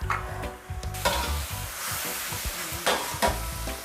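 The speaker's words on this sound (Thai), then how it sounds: "ผัดพริกหยวก ก็ผัดง่ายๆไม่ยากเลย เดี๋ยวเรารอให้ทุกอย่างสุกนะคะ" Meatballs stir-fried with sweet peppers in a pan, a steady sizzle broken by repeated scraping stirs and a few sharp clanks of the utensil against the pan.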